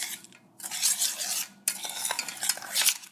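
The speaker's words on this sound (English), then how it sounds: "I'm not done stirring it yet." A spoon stirring a thick mixture in a bowl, with steady scraping and swishing strokes, near and continuous apart from a brief pause, no voices.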